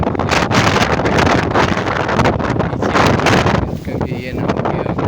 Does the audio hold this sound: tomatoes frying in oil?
no